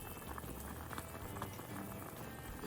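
A pot of miso pork soup with vegetables bubbles at a steady boil, giving a dense, continuous simmering patter close by with no voices.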